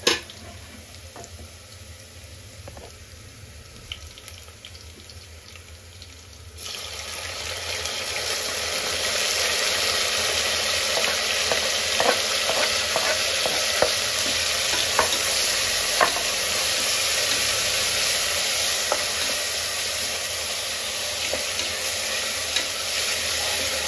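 Tomato is added to onions, curry leaves and green chillies frying in a pan. After a quiet stretch a loud, steady sizzle bursts in and continues, with occasional clicks of stirring.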